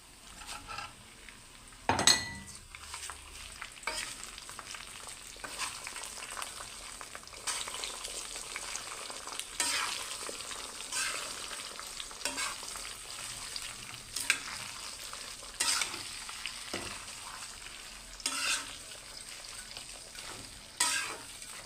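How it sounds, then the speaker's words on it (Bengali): Taro leaves frying with onion, garlic and green chili, a faint sizzle under repeated scraping stirs of a spoon against the pan, one louder clatter near the start. "ভালো করে নেড়ে চেড়ে নিব।"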